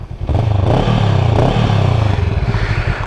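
A Honda Rebel 500 parallel-twin motorcycle engine cranks and fires after a short pause, then settles into a loud, steady, close-up idle with a lumpy low throb and slight mechanical clatter.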